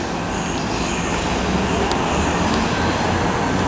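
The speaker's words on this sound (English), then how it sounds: "that is 17395 forming 1056 ScotRail service from Edinburgh to Dunblane" ScotRail passenger train, locomotive 17395 working an Edinburgh to Dunblane service at Stirling station, rumbles steadily and loudly throughout with continuous wheel and rail noise and faint brief squeals, no voices.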